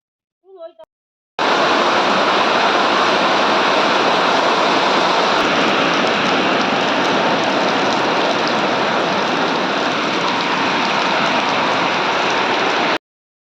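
Steady heavy rain of the first monsoon shower in Konkan pours down in an even, loud, continuous hiss for about twelve seconds, preceded by a brief moment of voice.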